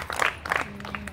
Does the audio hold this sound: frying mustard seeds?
no